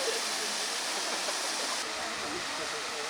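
Water pours steadily down the historic baroque cascades of the Kassel Wilhelmshöhe water features in a mountain park, a dense, continuous outdoor roar and rush with a possible faint voice underneath.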